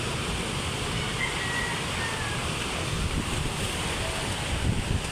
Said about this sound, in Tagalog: Malalaki po guys ang alon.